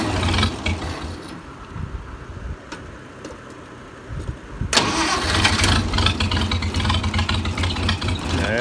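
An International 184 tractor engine cranks for several seconds, then catches and starts, settling into a loud, steady running rumble close by.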